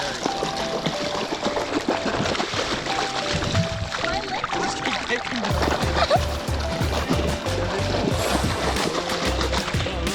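Paddling a tube along a lazy river in Walkerton, Ontario: steady splashing and sloshing water with rhythmic strokes, close and fairly loud, no talk.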